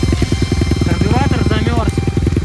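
A dirt bike engine, Yamaha WR250F, sputters unevenly as it stalls out with its carburetor frozen after a ride through deep snow, with people talking close by over the faltering engine.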